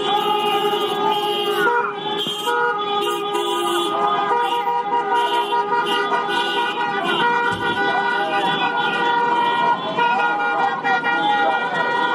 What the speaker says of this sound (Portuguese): os apoiadores do Bolsonaro realizaram buzinaço na rodoviária do Plano Piloto